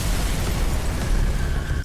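A big gun firing in the video game NIKKE, a heavy continuous booming blast with rumbling low end and crackle, loud and sustained for under two seconds.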